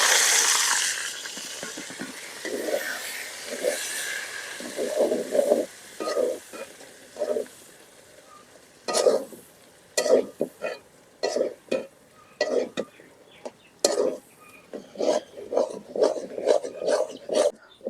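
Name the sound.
frying onion, garlic, lentils and taro leaves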